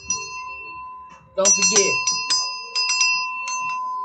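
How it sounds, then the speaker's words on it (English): Handheld bell rung indoors: a steady bright tone sustained throughout, with repeated sharp metallic rings in short bursts, loud and close, while someone speaks briefly over it. "Let me get my bell. Ring that bell."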